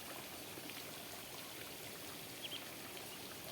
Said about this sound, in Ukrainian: Бачите вже який фонтан маленький стає.